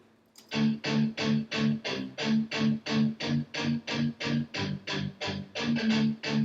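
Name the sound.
pitched-down guitar loop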